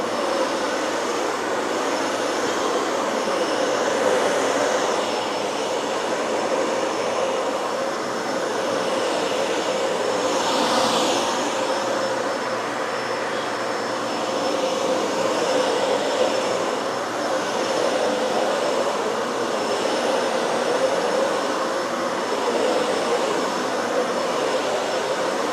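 A Dyson Ball Animal 3 upright vacuum cleaner runs with a steady, loud whooshing drone, its motor tone holding constant for the whole stretch with slight swells as it is pushed.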